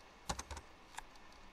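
A short burst of computer keyboard typing: a few quick close key taps, a pause, then one or two more light clicks, alone in a quiet room.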